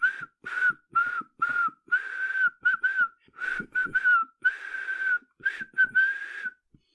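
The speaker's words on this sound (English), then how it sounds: "whistling the Marseillaise out of tune" Someone whistles the Marseillaise in wavering, short, uneven phrases with frequent pauses, close and clear, the pitch drifting off key.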